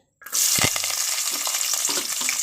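Hot oil in a pan sizzling loudly as onions go in for tempering. The hiss starts abruptly and stays strong and steady, close up, with faint stirring clinks in the oil.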